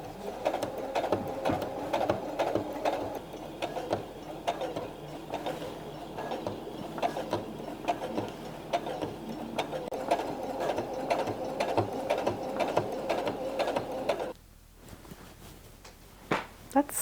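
Sewing machine stitching up a refashioned garment for a clothing upcycle, a steady rapid mechanical whir with rhythmic needle clatter running for most of the stretch, then stopping near the end before a few brief clicks.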